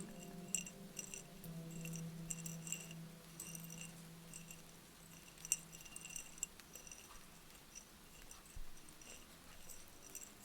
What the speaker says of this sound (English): It's actually a bottle of dried mushrooms.